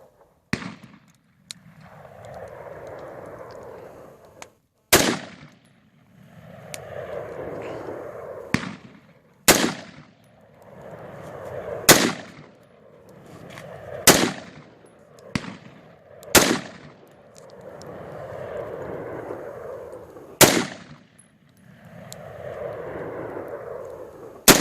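A Colt AR-15 rifle fires single sharp, loud gunshots at an outdoor range, about eight spaced shots over the stretch, each cracking and fading quickly, with people talking between them.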